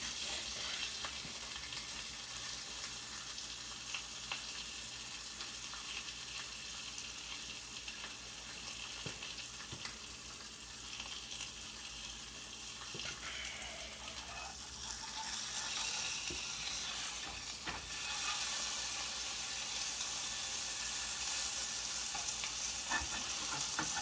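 Bacon sizzling and frying in a pan for a bacon cheddar cheeseburger, a continuous crackling hiss with occasional stirring and scraping, close and alone with no talk.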